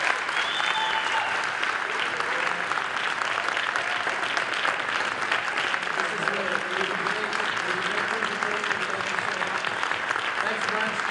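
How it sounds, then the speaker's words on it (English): A studio audience gives a big, sustained round of applause for guests being thanked, dense steady clapping filling the whole stretch with a few voices and faint cheers mixed in. "I want to once again ask the audience to give you guys a huge round of applause."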